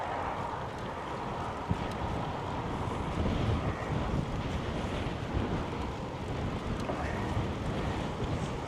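Steady wind roaring against a cyclist riding into a north headwind on a bike tour near Oulu, Finland, a constant broadband rush buffeting the microphone with no pauses and no speech.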